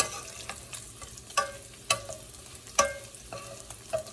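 Cabbage frying with bacon in a pan gives a steady sizzling hiss, broken by sharp clicks and scrapes of stirring at irregular intervals.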